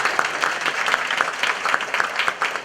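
An audience at a debate contest claps steadily, a moderately loud wash of applause continuing evenly throughout.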